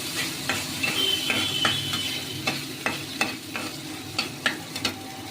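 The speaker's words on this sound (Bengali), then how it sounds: "তেলে এবারে চালগুলোকে একটু ভেজে দিয়ে নাড়াচাড়া দিয়ে নেব।" Rice frying in oil as it is stirred, a constant sizzle broken by regular sharp taps and scrapes of a utensil against the pan, close by, with no talk.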